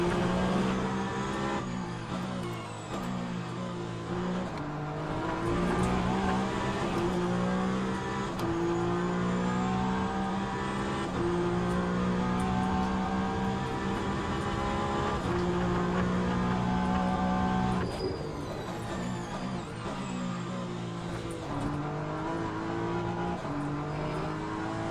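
Race cars in the Le Mans Ultimate racing game on a wet track, engines rising and falling through gear changes, with other cars audible around the player's car at a steady, fairly loud level.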